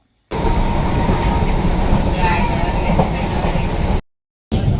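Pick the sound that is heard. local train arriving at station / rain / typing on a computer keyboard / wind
local train arriving at station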